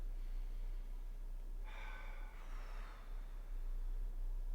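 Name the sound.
slow deep breaths in and out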